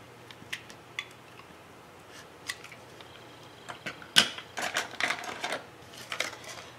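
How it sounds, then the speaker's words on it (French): Paper is cut with scissors along a drawn line, giving sparse soft snips that build into a denser cluster of crisp cuts near the end, close and quiet with no talking. "Et je coupe selon mon trait."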